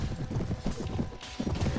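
Horse hooves clatter in a fast, steady galloping rhythm during a cavalry charge in the Mount & Blade: Warband mod A Clash of Kings, heard close and loud with no speech over them.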